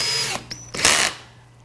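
A power drill fitted with a diamond bit runs in a short burst of high-pitched whirring, a brief pause, then a louder grinding surge near the mic before trailing off, with no talking.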